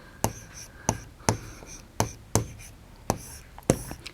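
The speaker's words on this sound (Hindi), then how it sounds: "तो हम यहाँ लिखेंगे गुरुवार" A pen or pencil writes a word by hand on paper, giving a run of sharp, evenly spaced tapping strokes, close and fairly quiet against faint room noise.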